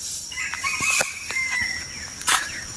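Wild hill jungle fowl rooster crows in a jungle thicket, a few bright, fairly close calls with brief wingbeat rustles and sparse bird sounds around, no talking.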